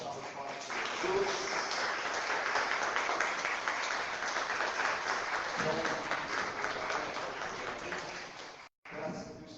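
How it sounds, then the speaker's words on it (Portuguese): A church congregation of the Igreja Internacional da Graça de Deus gives a long, full round of applause, sustained and roomy, briefly cutting out near the end before resuming. "para aquela linda salva de palmas de Jesus"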